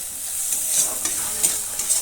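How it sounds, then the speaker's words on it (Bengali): Ginger paste frying in a pan with tomato for a vegetarian dal, giving a steady bright sizzle with a few sharp spatters and stirring scrapes. It is close and continuous, with no voices. "আদা বাটা দিয়ে এক থেকে দু মিনিট ভালো করে ভেজে নেব"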